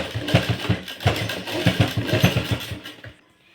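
A sewing machine runs in steady rapid bursts of stitching along the edge of a blouse, close and fairly loud, then stops near the end.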